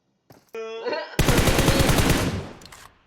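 Rapid automatic gunfire in PUBG Mobile: a brief tonal burst, then a dense, loud stream of rhythmic shots that fades out toward the end.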